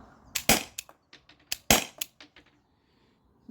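A T4E TR50 CO2 gun fires a quick string of sharp cracking shots, a few loud ones among softer snaps and clicks, close by and without talk, then silence.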